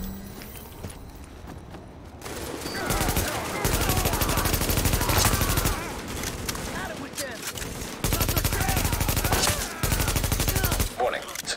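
Rapid gunfire rattles in The Division video game, with dense automatic bursts that start after a short quiet opening and run loud and near through most of the stretch, broken by brief pauses.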